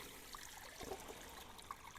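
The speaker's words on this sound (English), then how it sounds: "And then I just fill it up with the warm water" Warm water poured into a chicken waterer weighted with a heavy rock, for a small flock in winter: a faint, steady trickle with a few soft splashes, heard alone in a quiet space.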